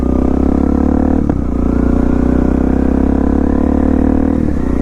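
A Suzuki DR-Z400S motorcycle engine runs loud and close, a steady rough single-cylinder drone with slight rises and dips as the clutch is feathered, alone with no talking.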